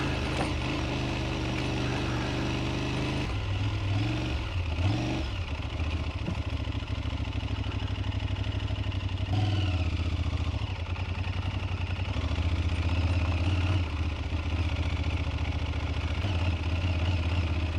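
Aprilia Tuareg 660 motorcycle ridden off-road along a muddy route, its engine droning steadily and close throughout with a low rumble, shifting pitch a few times, plus occasional mechanical rattles, and no talking.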